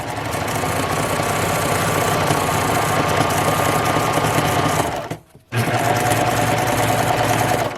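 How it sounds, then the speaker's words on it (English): A serger runs steadily as it stitches around the edge of a burp cloth, a loud continuous mechanical whir that stops briefly near the end, then resumes. "Allowing the serger to do all the work until you get back to the beginning."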